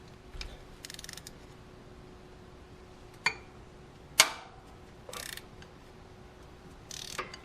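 A 1/2 inch wrench works a corroded exhaust manifold nut on a Ford Explorer 4.6L 3V, giving sparse metallic clicks and ratcheting scrapes with two sharper clanks, close and quiet, with no talking.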